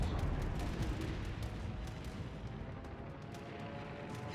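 Naval guns firing in a World of Warships Legends battle aboard the Massachusetts battleship, a dense rumbling wash of booming gunfire and explosions that stays loud and continuous throughout, with sharp reports punctuating the roar.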